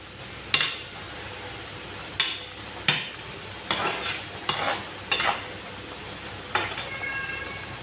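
Large fish pieces in a boiling curry, a low bubbling simmer punctuated by several sharp clinks and scrapes of a spoon against the pot at irregular intervals.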